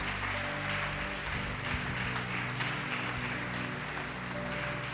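A church congregation applauding during a sermon, a steady wash of many hands clapping at moderate distance, even and continuous throughout with a low hum beneath.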